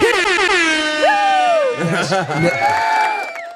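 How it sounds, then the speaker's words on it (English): A loud air horn blares in repeated long, brassy blasts while a crowd cheers and whoops in the background. "hit the air horns on that thing."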